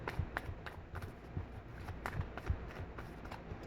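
A deck of tarot cards is shuffled close by, giving a soft, steady series of riffling taps and slides with no talking.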